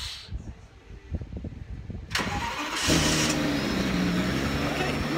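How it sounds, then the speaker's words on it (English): A Ferrari F50 engine cranks and fires up, rising into a steady, loud, close idle after a second of starter noise, with some faint talk and handling sounds before it catches. "here's a startup of the Ferrari F50"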